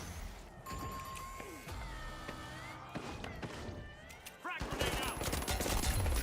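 Rapid gunfire bursts and single shots crack out in Call of Duty Black Ops, with sharp impacts, metallic clatter and an explosion-like burst near the end, all loud and close.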